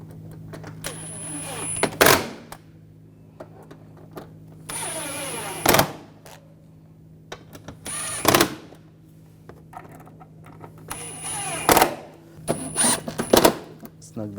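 Bolts tightened on a 2004-2009 Audi A4 during a radiator cooling fan control module job produce about five short, loud whirring bursts from a power tool, separated by quieter pauses with faint handling noises.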